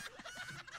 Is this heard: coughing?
no